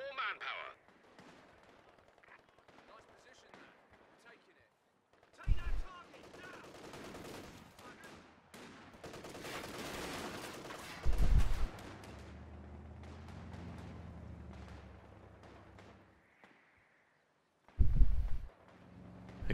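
Gunfire and explosions in the World War II strategy game Company of Heroes 2, scattered bursts and heavy booming impacts separated by quieter stretches, with a voice talking intermittently.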